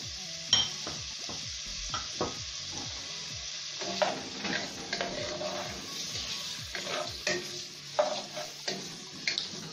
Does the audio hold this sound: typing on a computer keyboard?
no